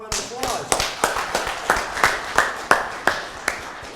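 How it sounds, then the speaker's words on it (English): Sparse, distinct hand claps from a business pitch competition audience, a dozen or so sharp claps spaced unevenly rather than dense applause, fairly close and moderately loud. "Let's give one more round of applause."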